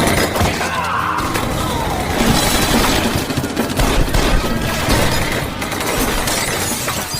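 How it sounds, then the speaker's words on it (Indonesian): Loud, dense bursts of gunfire and crashing impacts in a film shootout overlap continuously, a chaotic barrage of shots and breaking debris with no clear pauses. "Sesampainya di sana, mereka mendengar suara tembakan."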